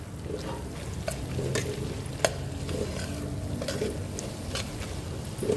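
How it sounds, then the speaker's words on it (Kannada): Egg puff stuffing being stirred and mixed in a pan, a soft, continuous scraping and sizzling with a few light clinks of the spoon against the pan, close and moderately quiet. "ಈ ಥರ ಒಂದು ಮಿಕ್ಸ್ ಮಾಡಿದರೆ ನಮ್ಮ ಒಂದು ಎಗ್ ಪಪ್ಸ್ ಇದು ಸ್ಟಫಿಂಗ್ ರೆಡಿ ಆಗಿದೆ"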